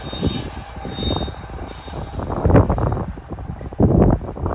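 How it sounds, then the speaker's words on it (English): A freight train rolls past, with a GE Evolution (GEVO) locomotive pushing at the rear; close, loud rumbling and clattering swell in uneven surges, with a faint high wheel squeal on top. "a lot of locomotives at the front and one GEVO locomotive pushing at the end"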